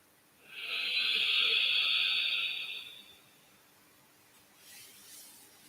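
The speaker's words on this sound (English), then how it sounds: "making an audible sound on both the inhale and the exhale as you slowly constrict the glottis" One long, soft, hissing ujjayi yoga breath through a constricted throat, steady for about two seconds, followed by a quieter second breath.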